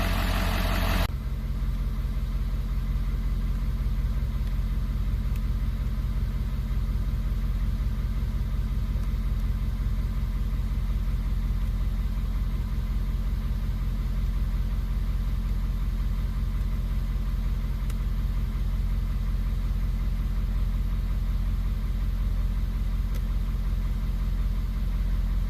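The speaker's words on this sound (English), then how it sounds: "we just let the truck run with the fresh oil in it until it got to 100 degrees on the engine temperature" A 2015 Ford F-350 Super Duty with a 6.7L diesel idles steadily on fresh oil, a constant low rumble that holds level and unbroken throughout, with no voices over it.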